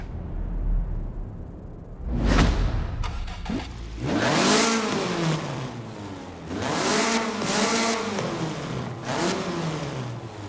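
A 1974 Toyota Celica GT with an AWD drift tune revs inside a racing video game, its engine note climbing and falling in several loud, sweeping bursts after a short mechanical start-up.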